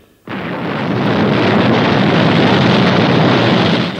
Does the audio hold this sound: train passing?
no